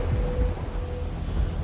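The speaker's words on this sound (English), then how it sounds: "closely followed by a loud thunderclap" A loud thunderclap rolls through steady heavy rain on a stormy night, a deep rumbling boom over the constant hiss of falling water, with no voices.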